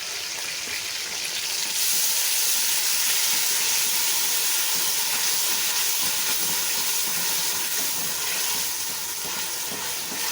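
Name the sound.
ginger garlic and green chili paste frying for beef paya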